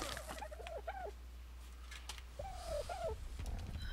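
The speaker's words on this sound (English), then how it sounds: "These birds are irritating me." Birds in the video game ARK: Survival Evolved give short warbling calls, two brief bursts separated by a pause, over a steady low hum.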